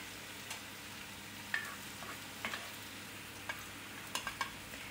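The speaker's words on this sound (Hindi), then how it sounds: "फिर अम्मी ने सारे वेजिटेबल्स डाले, उसको सौते किया है।" Ginger and garlic sizzle and fry in a pan with vegetables, with occasional sharp stirring clicks and scrapes over a steady low hiss, close and fairly quiet, no voices.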